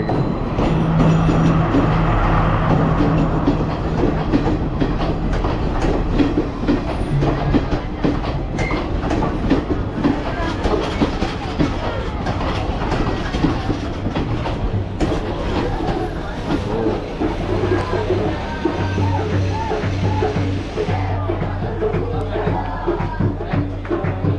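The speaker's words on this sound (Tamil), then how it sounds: "நாங்கள் ஒம்பது நாற்பது ட்ரெயின் ஸ்பெஷல் ட்ரெயினில் போகிறோம்" A blue special train rumbles past on the tracks in Badulla, Sri Lanka, loud and close, with rhythmic clattering wheels and a steady low roar throughout.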